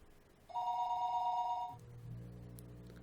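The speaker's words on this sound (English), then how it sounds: "the phone rang." A single telephone ring, a bright warbling electronic bell lasting just over a second, followed by a lower lingering tone against a faint background hum, with no voices.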